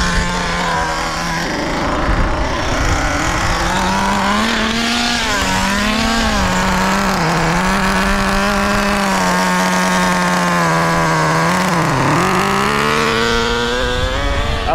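Traxxas Nitro Slash 3.3 nitro RC car engine screams continuously during a break-in run, its high buzzing pitch wavering and dipping as the throttle changes, loud and close throughout with no voices.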